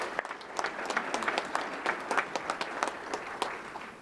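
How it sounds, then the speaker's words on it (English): An audience at a fire department awards event claps for several seconds, a dense, steady round of applause from a mid-sized indoor crowd. "So let's have another round of applause."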